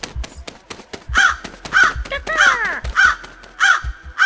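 A crow caws repeatedly in loud, harsh calls at a regular pace, set against faint rhythmic clicks in the background, used as a podcast intro sound effect.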